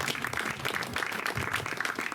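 An audience claps at a live event in Italy, a short burst of fairly dense, slightly uneven clapping heard at moderate distance.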